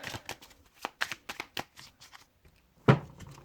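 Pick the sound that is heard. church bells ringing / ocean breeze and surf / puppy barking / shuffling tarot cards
shuffling tarot cards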